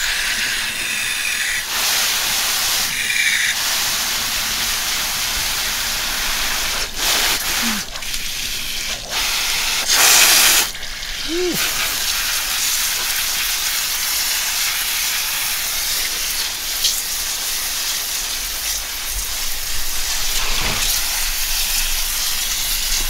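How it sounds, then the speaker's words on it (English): Running water hisses steadily as a freshly dyed pastel spiral tie-dye T-shirt is rinsed, a loud continuous spray with brief breaks and occasional handling sounds. "Here to rinse out another tie-dye."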